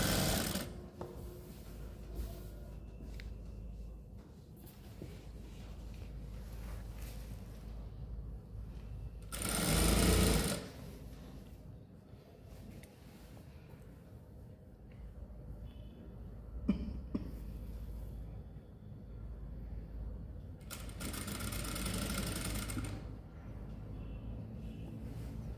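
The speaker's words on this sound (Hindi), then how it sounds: "सिलाई लगानी है।" A sewing machine stitches kurti fabric, joining inner and main fabric pieces. It runs quietly and close, with a steady hum broken by two louder bursts of stitching.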